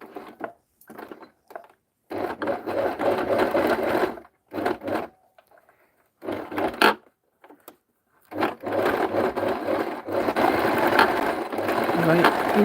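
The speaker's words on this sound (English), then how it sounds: "So you're going to double stitch, double stitch, double stitch." Sewing machine double stitching through webbing, running in several bursts of steady mechanical whirring with short pauses between seams.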